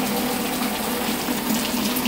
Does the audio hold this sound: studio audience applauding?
no